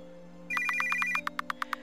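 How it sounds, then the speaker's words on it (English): Phone alert in an RPG Maker game: a short held electronic tone followed by a quick series of evenly spaced, bright ringing beeps, clear and alone over a faint low hum. "A sudden alert from your phone caused you to jump in place."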